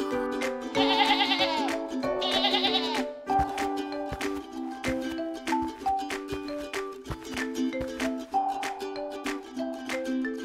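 Sheep bleating in a cartoon farm rescue scene, a couple of wavering bleats near the start set against a busy, melodic music backing that continues throughout.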